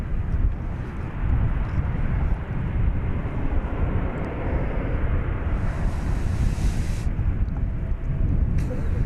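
An Embraer 175 jet arriving from Garden City, Kansas rumbles at DFW Airport, a steady broad roar mixed with wind buffeting the microphone, moderately loud and continuous.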